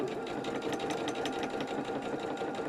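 Sewing machine stitching a zipped-top bag, a steady, dense mechanical whir with a fast even rhythm that runs unbroken and close at a constant level.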